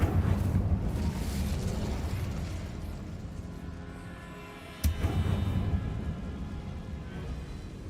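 The Incendio fire spell is cast in the Hogwarts Legacy video game, a loud whooshing burst of flame over a rumbling, crackling bed, with one sharp blast near the end before the roar carries on.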